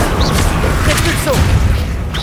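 A Repulso spell blast goes off in the Hogwarts Legacy video game, a dull booming burst set within a continuous wash of game noise and effects.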